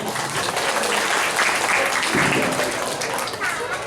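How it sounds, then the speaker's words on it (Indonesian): An audience at a Balinese bondres comedy performance claps steadily, with the applause mixed under lively voices and crowd noise throughout. "tepuk tangannya dulu dong"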